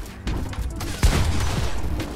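Cannon fire in a competitive Fortnite-style shooter match, a single heavy boom about a second in, set against a dense bed of game noise and gunfire.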